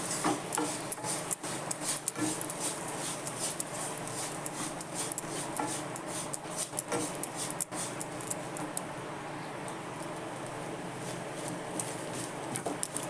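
A spoon stirring and sautéing a sweet coconut mixture with a little milk in a pan, a continuous close scraping and rubbing with frequent sharp ticks as the thickening mass is moved around.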